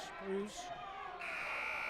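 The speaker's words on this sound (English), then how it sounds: "Late buzzer." A buzzer sounds at a girls' high school basketball game, a brief tone heard under a commentator's talk and crowd noise in the gym.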